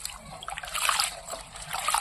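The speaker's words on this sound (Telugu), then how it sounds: "ఇప్పుడు దీంట్లోకి నీళ్ళు పోసుకొని నీట్గా అయితే కడుక్కుందాము" Chopped leafy greens being washed by hand in water, giving soft, continuous splashing and sloshing at close range with a faint voice in the background.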